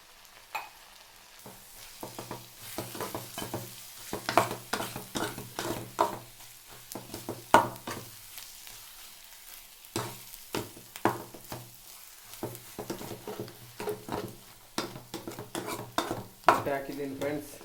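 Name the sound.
eggs frying and being stirred in a pan for egg rice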